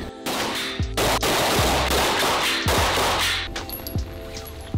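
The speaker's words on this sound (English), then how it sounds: "So we went for a shooting range in Monaco." Loud gunshots ring out at close range at a shooting range in Monaco, a series of sharp cracks with heavy low thumps spaced irregularly over a few seconds, with no talking.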